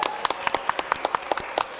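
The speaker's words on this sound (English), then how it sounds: "Y'all clap it up for our panelists." A school-day panel audience on the National School Day of Non-violence and Peace gives scattered, uneven hand claps, a thin burst of sharp individual slaps rather than a dense roar.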